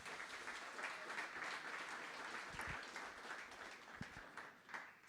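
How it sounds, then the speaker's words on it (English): A sustained round of audience applause from a crowd at a sports sustainability pitch event held at the Allianz Arena, steady and fairly distant, with many hands clapping together. "So I would like to have a big applause for Jung"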